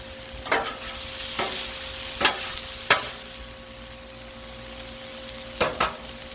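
Oil sizzles on a Blackstone flat-top griddle while chicken fried rice is being made, giving a steady frying hiss punctuated by several sharp scraping or stirring clicks spaced a second or so apart, close and fairly loud, with no talking.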